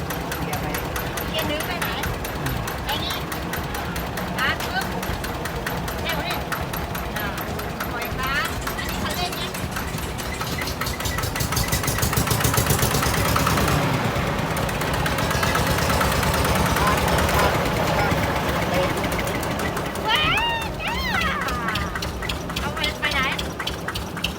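A car engine runs steadily while the vehicle is driven, a continuous drone that swells slightly midway, with people talking over it throughout.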